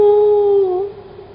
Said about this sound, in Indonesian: suara lolongan anjing itu terdengar ketika daratan mereka diangkat oleh langit